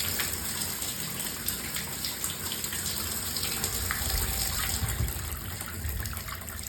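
A bath tap runs hard as air is purged from the pipes, a loud continuous gushing rush with sputtering surges and low rumbling bursts, steady throughout and close.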